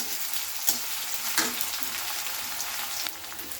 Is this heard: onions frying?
yes